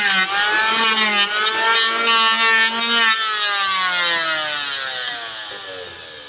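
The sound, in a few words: electric wood planer shaping a boat part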